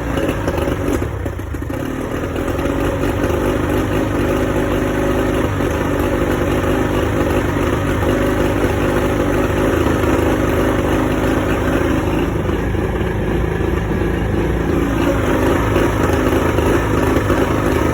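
An Evinrude 50 hp outboard motor idling with a misfire, a loud, continuous rough engine drone that runs steadily throughout with an uneven, clattering quality.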